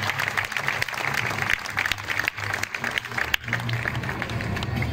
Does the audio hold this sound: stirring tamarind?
no